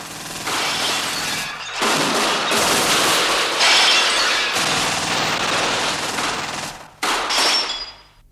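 Bursts of gunfire crackle and rattle through a shootout in a barracks flag room, loud and dense, with sustained volleys broken by a brief pause before a final burst.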